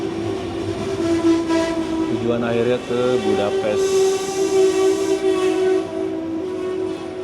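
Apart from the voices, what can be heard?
Eurocity passenger train passing with carriages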